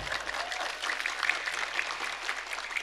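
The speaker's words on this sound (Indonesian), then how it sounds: "tepuk tangan dulu buat Pak Camat" A mosque congregation claps for the district head, a steady wash of applause from many hands throughout, fairly close and full.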